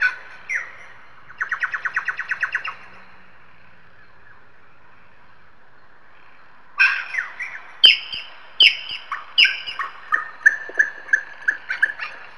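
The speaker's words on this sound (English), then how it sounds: "This morning I looked out my window and saw this king parrot arrive at the bird feeder." A male Australian king parrot at a bird feeder gives a short burst of rapid chirps, pauses, then repeats a series of loud, sharp whistled calls, close and clear with no talking.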